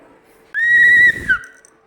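A sharp whistle blown during a children's ball-passing game in a classroom, a single sustained shrill blast of about half a second, loud and close, ending with a short chirp and no talk over it.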